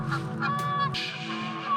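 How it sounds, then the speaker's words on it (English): Geese honking loudly at Battle Ground Lake, several overlapping nasal honks in quick succession, close and prominent. "These birds are a little loud, aren't they?"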